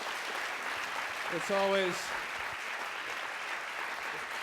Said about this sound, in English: It's great to hear the applause, I guess.